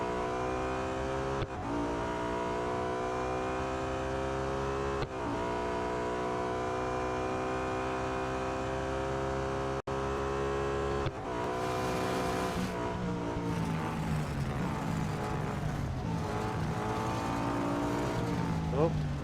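A BMW M3 GTR race car engine in the Real Racing 3 video game: a loud sustained roar that repeatedly climbs in pitch and cuts briefly at each gear shift, ending in a rougher burst with tyre noise.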